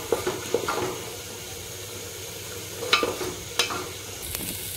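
Chana dal fries in oil and is stirred with a spoon, giving a quiet, steady sizzle broken by several soft scraping stirs.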